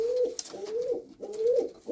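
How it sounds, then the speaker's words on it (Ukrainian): Pigeons in Mariupol coo close by in soft, repeated throaty phrases, rising and falling in a steady rhythm with brief pauses between calls. "Такі от голуби залишились."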